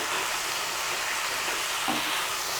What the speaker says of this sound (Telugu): పుదీనా కొత్తిమీర బాగా ఫ్రై అవ్వాలి